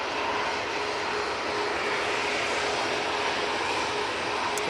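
An airliner arriving from Zurich at Manchester Airport produces a constant, even engine roar with a faint whine, heard from some distance in a gusty breeze.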